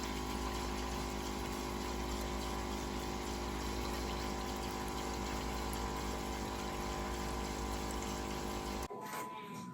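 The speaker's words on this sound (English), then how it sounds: "So I'm going to go fill that up using my bucket right here." Warm tap water runs steadily into a bucket for home brewing: a continuous, fairly loud rushing stream with a humming tone, then it cuts off abruptly just before the end.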